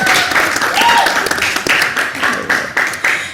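A worship congregation at a Christmas service claps and cheers loudly, with steady, dense applause throughout and voices mixed into the crowd noise.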